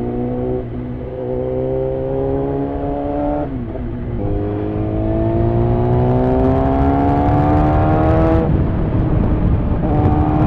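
Car engine in road traffic in Tagaytay, a close, loud revving drone that rises in pitch through successive gear changes, with steady road rumble beneath.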